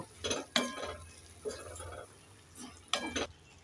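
Chopped pumpkin greens being stirred in a pan with a utensil, giving several separate soft scraping and clinking strokes with short pauses between them, quiet and close with no talking.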